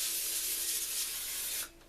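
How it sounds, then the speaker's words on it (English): Cooking spray is sprayed onto a foil-lined cookie sheet for baking bread sticks, one continuous close hiss lasting under two seconds before cutting off. "I've got to spray my pan."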